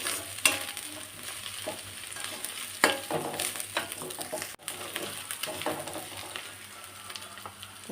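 Chicken curry with turmeric frying in a pan, a steady low sizzle with occasional stirring scrapes and clinks throughout, fairly close and moderately quiet, with no talking.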